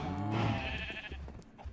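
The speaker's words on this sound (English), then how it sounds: "Oh, pigs!" Pigs in a video game give a short burst of grunting, squealing calls near the start, then fade into softer, scattered game noise.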